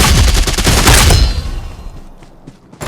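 Gunfire in a mobile shooting game plays as a rapid burst of loud, close shots for about a second, then trails off into fading echoes and quiet.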